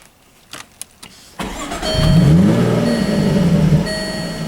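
A Jaguar F-Type sports car engine starts after a few faint clicks: the starter catches, the engine barks and revs up loudly, then settles into a rumbling fast idle nearby.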